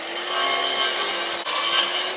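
Makita power saw cutting through timber outdoors, a loud continuous rasping whine for about two seconds with a brief dip midway, close by and alone.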